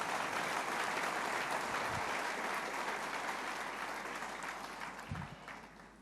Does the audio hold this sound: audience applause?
yes